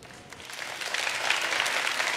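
Dense, steady applause from a television studio audience fills the short stretch, rising slightly in intensity toward the end, with no talk over it.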